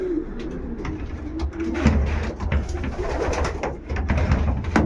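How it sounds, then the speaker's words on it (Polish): Show pigeon hen being presented before an exhibition cooing repeatedly, a soft low rhythmic coo with steady rustling background, fairly close. "To kapitalny gołąb."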